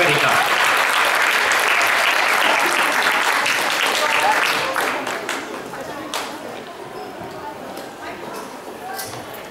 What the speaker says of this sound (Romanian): aplauze pentru ei și aplauze pentru toți copiii care au urcat pe scenă astăzi